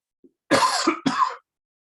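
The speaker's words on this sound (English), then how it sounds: "I have to cough" Two harsh, close coughs in quick succession, preceded by a faint short throat sound, then silence.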